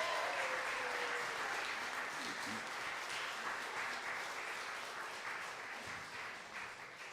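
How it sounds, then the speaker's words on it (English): A concert audience applauds bands at a fundraiser, sustained dense clapping from a crowd that holds steady and slowly fades toward the end. "One more round of applause for Green Goose and Hazelwood bands."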